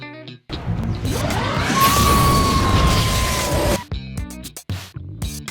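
A cartoon taser fires in one long crackling electric burst lasting about three seconds, with a whining tone sliding through it, then cuts off into short clipped cartoon sounds.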